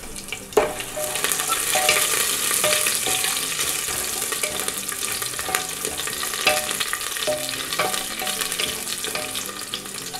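Garlic frying with mustard seeds, cumin, curry leaves and dried red chillies in a pan for dal khichdi, an even close crackling sizzle punctuated by occasional sharp pops and light stirring clicks.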